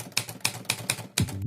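Typewriter keys strike in a quick run of five or six sharp clacks, close and crisp, ending in a denser clunk and a brief buzzing hum like keys snagging together, with no voices.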